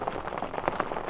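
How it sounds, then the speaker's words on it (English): Rain beats on a convertible car's closed soft top, a steady, dense patter and rush filling the short clip at close range, with no talk. "Look at that rain."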